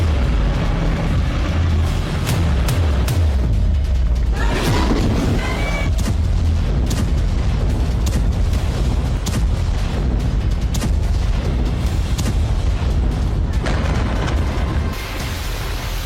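Destructive explosions and artillery blasts pound without pause, with sharp booms and cracks stacked over a dense, roaring rumble that stays loud throughout.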